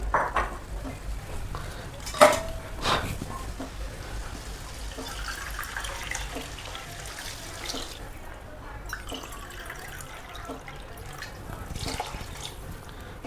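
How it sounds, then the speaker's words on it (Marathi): Water is poured into a kadhai of soaked kolam rice, three cups for one cup of rice, giving a steady splashing pour with a few clinks of utensils, close by and without talk. "3 कप पाणी घालायचे."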